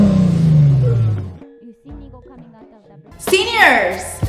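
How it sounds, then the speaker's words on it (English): A car engine revs up sharply near the end, a loud rising roar that follows a stretch of talking and quieter sounds. "Let me hear that exhaust."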